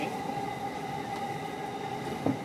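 A Chuo-Sobu local line commuter train rolls between Akihabara and Ochanomizu, heard from inside the car as a steady, moderate rumble with a faint squeal near the end.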